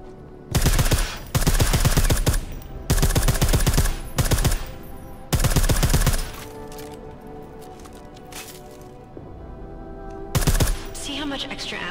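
Suppressed gunfire in Deus Ex: Mankind Divided, several sustained rapid bursts separated by short pauses, loud and close, followed by quieter game ambience and one final short burst.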